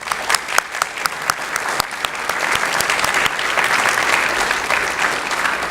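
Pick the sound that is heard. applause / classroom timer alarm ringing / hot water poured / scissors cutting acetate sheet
applause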